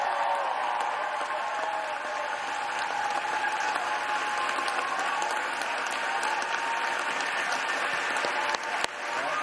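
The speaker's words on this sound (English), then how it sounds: "That applause went on for like 3 minutes" Sustained applause from a large caucus crowd after a record-breaking speech, dense and steady clapping throughout with no voices on top.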